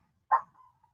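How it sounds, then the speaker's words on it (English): A single dog barks once, sharp and fairly close, inside a house while a FedEx delivery truck idles out front, followed by a faint trailing whine and then quiet. "have a FedEx truck that paused in front of the house. My dogs are going crazy"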